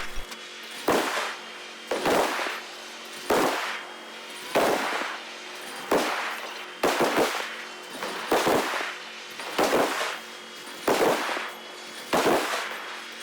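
Naval gunfire during a World of Warships battle against an enemy Graf Spee: about ten loud booming salvos fire at a steady rhythm, roughly every 1.2 seconds, over a low continuous hum of the game, with no talking.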